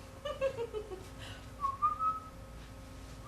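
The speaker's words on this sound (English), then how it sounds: "before I caught your eye in the mirror and you started to whistle" Someone whistles a short, wavering melody of several soft notes, moderately close against a quiet room hum, with brief pauses between the phrases.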